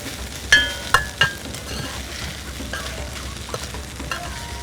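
Okra and rice heat through in a pot with a faint sizzle, while a spoon clinks sharply against the pot a few times near the start and then scrapes and stirs more softly.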